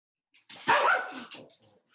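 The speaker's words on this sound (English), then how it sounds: "That's my dog." A pet dog gives a short burst of barking or yelping, one strong call followed by a few weaker trailing sounds, close by with no talk over it.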